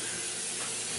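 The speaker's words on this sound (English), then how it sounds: "We got some coconut oil Pam spray." Coconut oil Pam cooking spray hisses from the can in one steady, close burst lasting about a second, with no talking.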